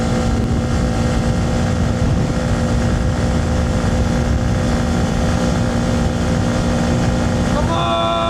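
A Honda Grom MSX125 motorcycle holds top speed on the German Autobahn, a steady loud engine drone with heavy wind rush, continuous and unchanging, with a rider's voice urging it on.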